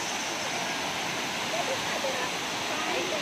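Seven Falls waterfall roars as a steady, broad rush of falling water heard nearby, unbroken across the whole moment.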